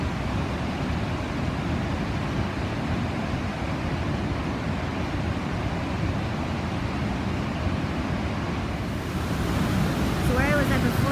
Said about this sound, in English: And this is the middle falls.